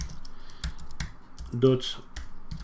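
Rapid computer keyboard typing, close and fairly loud, with clustered clicks and a brief louder burst near the middle, while someone talks quietly over part of it.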